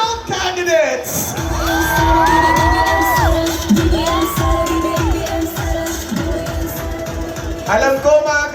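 A big crowd at a Pangasinan political rally for Unity Team senatorial candidates cheers and whoops loudly, a sustained roar with shouts rising above it while an announcer's voice carries over through a PA.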